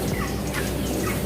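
Live chickens at a poultry market cluck and call in a busy, continuous chorus, several birds close by over a steady background din, with no talk.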